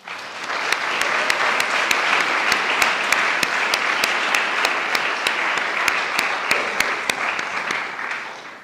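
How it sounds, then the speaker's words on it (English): Audience applause for faculty at a school academic awards ceremony, sustained and even clapping from a large crowd, with sharp individual claps standing out regularly above the dense wash. "Please give them a round of applause."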